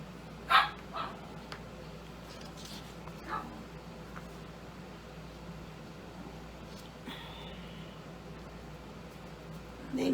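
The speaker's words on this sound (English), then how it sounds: "sorry, that's my dog in the background." A dog barks a few times in the background, with short sharp bursts near the start and occasional fainter yips later over a steady low room hum during a Dollar Tree cutting board craft.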